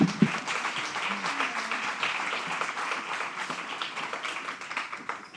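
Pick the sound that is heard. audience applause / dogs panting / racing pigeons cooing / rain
audience applause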